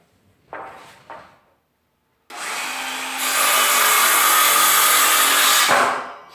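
Power tool cutting through a shrinkwrap frame: a couple of short rubbing noises, a pause, then a loud, sustained whining cut lasting several seconds before it stops.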